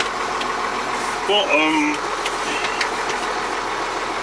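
Truck engine idles and pulls steadily in low-range first gear while hitched to a tri-axle trailer, a continuous mid-level drone with a brief whining rise, under a man's speech.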